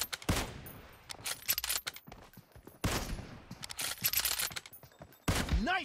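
Sniper rifle shots fire in PUBG Mobile, with two loud sharp blasts, each followed by a rolling echo tail, and a third shot near the end, close and alone with no talk.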